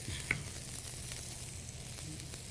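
Steak searing in a hot pan with a little butter, giving a steady close sizzle throughout with one brief sharp pop near the start and no voices.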